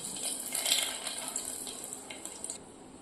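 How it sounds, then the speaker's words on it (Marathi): Rice is rinsed under a running tap, with a soft, steady trickle and splash of water into a vessel, quiet and close. "आता आपण तांदूळ धुवून घेऊया."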